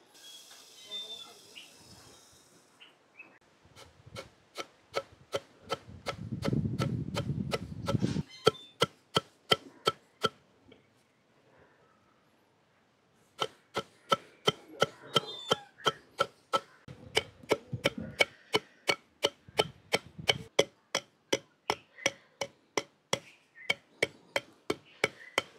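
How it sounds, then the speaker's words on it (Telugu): Roasted toor dal is pounded in a stone mortar with a wooden pestle. The thuds are sharp, steady and rhythmic, close and fairly loud. They pause briefly, then resume at the same pace, with some talk at the start. "వేయించి పెట్టుకున్న కందిపప్పు అండి రుబ్బు రోల్లో వేసేసి ఈ రోకలతోటి పొడి చేసుకుంటాను."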